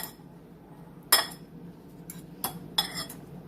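Bread cubes tossed in an egg mixture inside a mug for French toast: a few sharp clinks and scrapes of a utensil against the mug, one louder knock then softer taps, close and alone in a quiet room.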